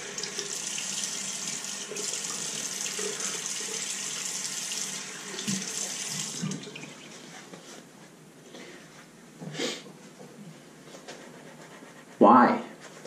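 Water from a running tap pours steadily as shaving gear is rinsed under it in a sink, the flow continuous for several seconds and then quieter with brief splashes, with a short burst of talk near the end.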